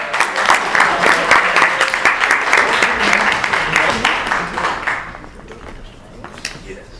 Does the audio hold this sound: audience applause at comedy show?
yes